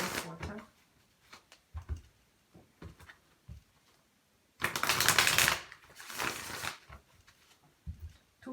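Quick bursts of tarot cards being riffled and shuffled, two loud flurries in the middle, with softer handling taps and brief talk around them.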